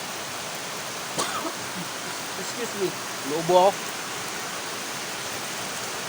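Heavy rain falls as a dense, even hiss throughout on a rainy street, with brief voices and a few faint thuds rising over it partway through.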